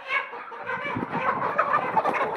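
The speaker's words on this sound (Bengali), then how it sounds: "এই তো মুরগি চলে যাচ্ছে।" Chickens on a poultry farm cluck in a busy, overlapping run of calls close by, with no talking.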